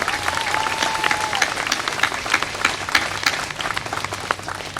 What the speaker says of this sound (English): Let's hear a nice round of applause for these fine ladies and gentlemen.